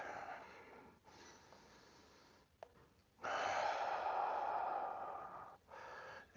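A person breathes hard during a high-intensity interval workout, with quiet exhalations and then a louder, prolonged breath, close and alone.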